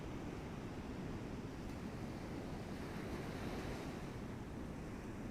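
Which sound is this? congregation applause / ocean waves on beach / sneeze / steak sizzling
ocean waves on beach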